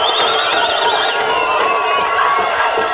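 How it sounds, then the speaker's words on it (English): A field hockey crowd at a girls' grand final in Christchurch keeps up a loud, steady roar of high-pitched cheering and shrieks after a goal, dense and unbroken throughout. "the crowd has just erupted after that goal has been scored"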